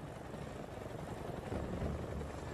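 An RAF Chinook twin-rotor helicopter in flight produces a steady, dense rotor and engine roar with a low thumping beat, faint and constant throughout, with no voices.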